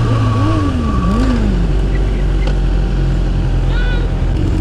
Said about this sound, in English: It's a giant motor.